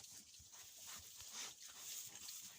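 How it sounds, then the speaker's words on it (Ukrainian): Piglets root around in straw, making faint snuffling and soft grunting sounds with low rustling, quiet and somewhat distant throughout. "Поросятка ось бігають, шукають щось у соломі, люблять гратися"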